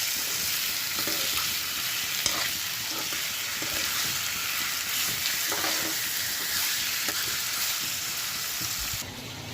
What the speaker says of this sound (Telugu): చికెన్ వేసుకోవాలండి. ఒక 3 minutes ఆయిల్లో వేయించుకోవాలి.